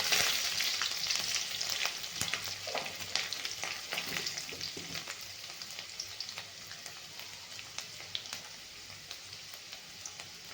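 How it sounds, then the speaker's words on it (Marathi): Garlic cloves spatter and crackle as they fry in hot oil alongside mustard seeds for a potato-cauliflower curry, a dense sizzle with sharp pops that starts loud and gradually settles to a steady, softer fry with no talking. "ही लसणाच्या पाकळ्या टाकायच्या"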